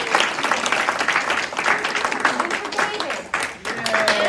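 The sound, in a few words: audience applause for state representative candidates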